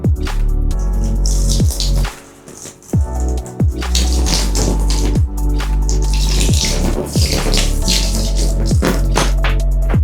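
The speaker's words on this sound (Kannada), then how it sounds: "ಇವಾಗ ನೀರು ಹಾಕೋಣ" Water poured steadily onto a bed protector laid over a mattress, a loud, continuous splashing and trickling with a few brief drips and pauses along the way.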